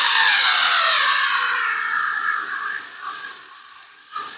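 Bolts on the wing of a Plymouth Hemi Duster being run down with a power tool: a loud, close whirring burst that gradually winds down and fades, ending in a short click.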